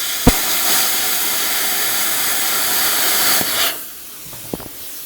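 A budget plasma cutter running at 20 amps with reduced gas flow cuts through metal, giving a steady, loud rushing hiss that holds for several seconds, then cuts off abruptly, leaving a quieter background with a few faint clicks.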